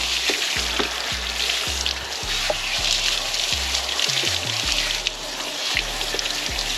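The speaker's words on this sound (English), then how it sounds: "Just washing off the soap residue" A water hose rinses soap residue off a motorcycle after a long road trip, giving a constant close hiss of spray over a steady low musical backing.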